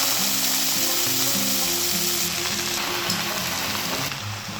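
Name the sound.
frying coriander and mint in oil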